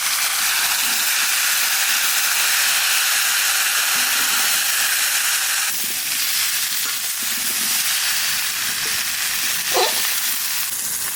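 Vegetables sizzle and hiss steadily in a hot pan for khichuri, a dense, constant frying crackle with occasional stirring scrapes and one brief clatter near the end.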